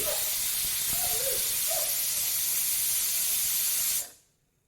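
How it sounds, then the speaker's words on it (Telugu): Loud, continuous hissing of steam escaping under pressure from a pressure cooker whistle, a steady jet that cuts off abruptly near the end. "ఈ విధంగా మూడు నుంచి నాలుగు విజిల్స్ రానివ్వండి"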